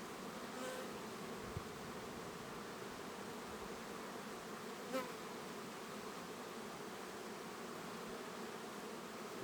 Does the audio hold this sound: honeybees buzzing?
yes